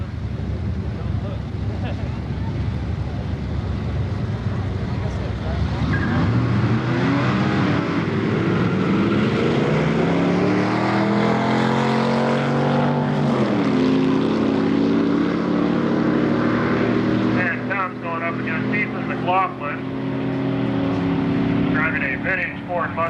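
A 1994 Chevy Nova drag racing at Milan Dragway during a high school drag event: a loud, sustained engine roar that rises in pitch through the run under a continuous announcer's voice, with crowd and track noise behind.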